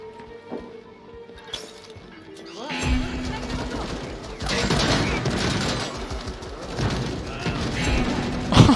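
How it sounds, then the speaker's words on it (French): Rapid gunfire bursts and crashing impacts erupt at a turret in the video game Deathloop, loud and dense after a quieter start, with a player talking over the action. "je pense qu'il tire juste sur la tourelle lui"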